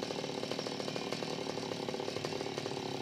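A chainsaw cuts tree branches up in a tree near power lines, its engine whining in a steady, continuous drone that holds a fairly even pitch and level for the whole stretch, with no talk over it.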